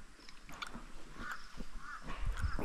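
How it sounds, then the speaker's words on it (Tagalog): Scattered bird calls, short and sharp, sound at a moderate distance in a mountain forest amid faint rustling and small knocks, with no voices. "Mga huni po ng ibon ang maririnig mo."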